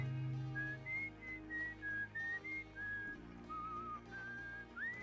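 Melodic whistling from a character in the video game Outer Wilds, a run of clear rising and falling phrases over soft ambient music, steady and moderately close.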